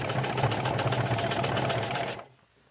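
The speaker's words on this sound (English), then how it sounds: "Okay, so I'm sewing it on the inside" Sewing machine stitching around the hem of a jean jacket, a fast, steady mechanical whirr with a rapid needle rhythm running close up, then stopping abruptly.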